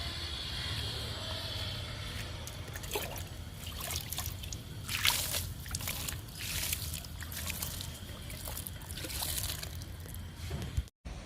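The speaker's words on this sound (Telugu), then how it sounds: "ఈ చిన్న సొరపాదుకు కూడా వాటర్ ఇచ్చేద్దాం" Water trickles and splashes steadily onto small gourd vines and other vegetable plants in a home garden, a continuous close pour with brief louder gushes and a sudden stop near the end.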